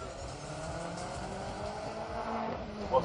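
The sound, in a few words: BMW 5 Series X-Drive launching off drag strip start line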